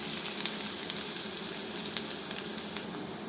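Chopped onions frying in oil with popped mustard seeds for bitter gourd poriyal make a continuous bright hiss and sizzle up close, with a few faint spits scattered through it and nobody talking.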